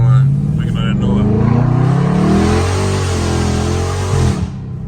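Loud Dodge Scat Pack driving through a neighborhood, its engine rumbling and rising in pitch as it revs up, then fading out near the end, with voices talking over the noise.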